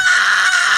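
A voice imitates a terrible bird-like scream coming from outside, one sustained shrill, cawing cry held at steady loudness from start to end.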